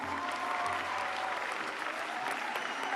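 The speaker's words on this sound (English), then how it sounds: "A huge, huge, huge round of applause." A hackathon audience breaks into sustained applause for the winning team, a loud, even roar of many hands clapping steadily throughout, with faint crowd murmur underneath.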